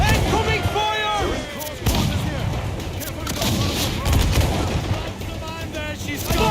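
Cannon fire in a naval battle in Assassin's Creed Black Flag: repeated heavy booms and crackling gunfire over several seconds, mixed with shouting crew voices and the roar of battle.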